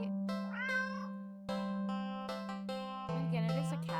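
A black cat meows up close, giving a few drawn-out, clear calls in a row, over a steady faint hum.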